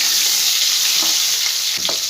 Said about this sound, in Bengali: আলুটাকে একটু ভাজাভাজি করে নেব 2-3 সেকেন্ডের মতন